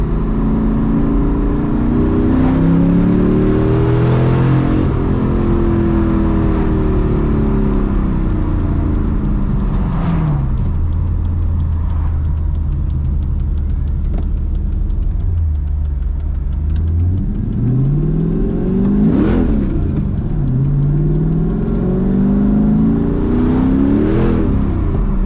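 A manual Mercedes C55 AMG V8 engine revs and accelerates while driving on cold roads, loud and close, with rising and falling pitch sweeps as it pulls through gears and a steady road rumble between pulls.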